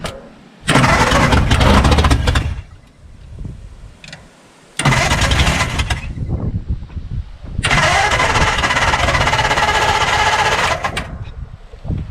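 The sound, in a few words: 1952 Ford F1 flathead engine cranking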